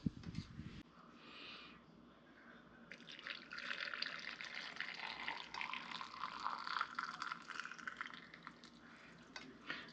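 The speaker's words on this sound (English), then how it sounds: "We have a nice deep pink color here, and we're going to pour that in." Hot deep-pink pickling brine pours into a jar in a steady, close splashing stream that starts after a short bump and runs for several seconds, with no talking over it.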